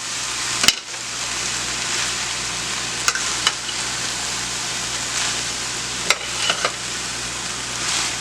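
Vegetable fried rice with soy sauce sizzles steadily in a pan, a loud, continuous frying hiss heard close up, with a few sharp clicks and taps from a utensil against the pan.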